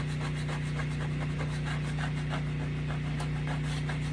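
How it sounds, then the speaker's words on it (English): Steady rubbing scrape of a Pampered Chef pot scraper, a continuous rasping stroke repeated in quick rhythm, loud and close with a constant hum underneath. "See, I'm just scraping it off."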